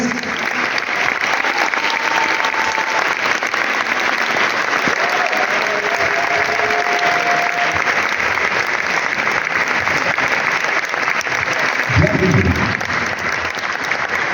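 Audience applause at a science fiction film festival presentation in Trieste, a sustained, even roar of clapping throughout with a brief low thump near the end.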